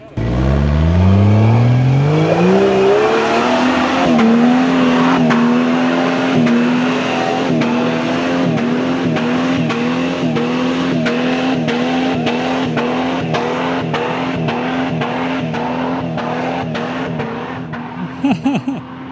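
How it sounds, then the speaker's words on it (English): A loud Jeep Cherokee engine revs hard and strains steadily climbing sand dunes, pitch rising then holding high under heavy load, with tires churning in sand, continuous for the whole stretch before easing off. "we're gonna see if these Cherokees can get up some dunes"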